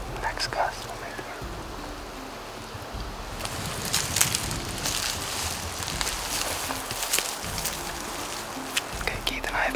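Wind gusts roar across the microphone outdoors on an elk hunt in hilly brush, rising in buffeting surges, with a low rumble and scattered rustling. A person whispers underneath.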